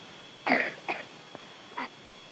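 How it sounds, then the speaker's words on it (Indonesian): Several short coughs in a quiet classroom during a micro-teaching practice lesson, a burst of two close together followed by a softer single cough, alone with no talk. "Lagi batuk ya"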